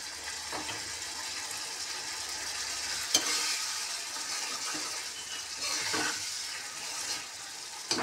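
Prawns sizzle in a pan of cooked-down masala for a coconut-free prawn malai curry, a steady hissing fry with a few soft stirring scrapes, moderately close.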